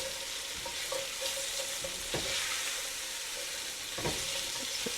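Carrots sizzling in a pot as they are stirred for a Guinness Irish stew, a steady hiss of frying with a few scraping spoon strokes against the pot, heard alone.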